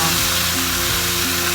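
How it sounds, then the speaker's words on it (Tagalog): Chicken breast halves fry in a dry pan without oil, giving a loud, steady close sizzle that continues unbroken through the short moment. "I'm going to cook our chicken breast in here"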